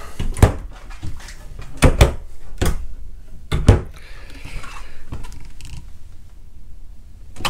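Cabinet doors on a 2014 Excel by Peterson Limited Edition 34IKE fifth wheel RV open and close with several sharp knocks and thuds, spaced over a few seconds, near and fairly loud, with faint creaking between.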